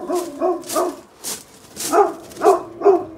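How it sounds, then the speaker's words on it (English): A dog barks at a visitor beside a house in Langley, BC, giving about seven sharp barks in uneven bursts, close and fairly loud, with no one talking over it. "Lovely dog that's not too happy with me."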